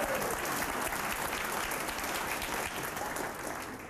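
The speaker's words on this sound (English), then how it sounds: "Round of applause right here." Audience applause after a talk by Paul Shirley: a dense, steady wash of clapping that holds for nearly four seconds, then eases slightly at the end.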